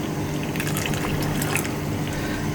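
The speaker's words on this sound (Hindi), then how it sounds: "थोड़ा सा पानी और डलेगा" Water pours steadily into a pot of cooking beef qeema, making a continuous close splashing and bubbling sound with a low hum underneath.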